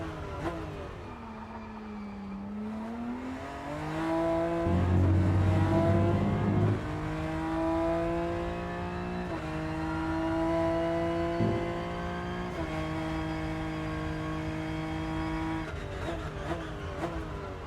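A race car in the Rennsport racing game is driven through a lap, its engine note rising and falling steadily through gear changes and revs, loud and close, with no talk over it.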